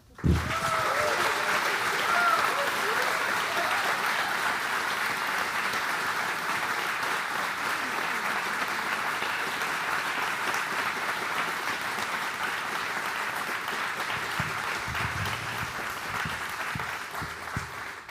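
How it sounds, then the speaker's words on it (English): A large audience applauds in a sustained, even wave, with a few faint voices beneath and a slight fade toward the end. "So just one more round of applause for the whole gang."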